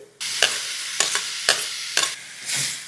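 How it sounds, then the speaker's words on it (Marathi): Finely chopped tomatoes hit a hot pan of oil and spices and sizzle loudly, with a spatula scraping and knocking in four regular stirring strokes over the frying hiss. "मिसळायचे आणि 5-6 मिनिटं फक्त परतून घ्यायचं"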